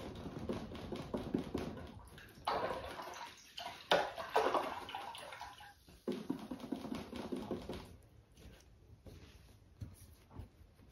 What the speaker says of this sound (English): now I'm going to wash my brush off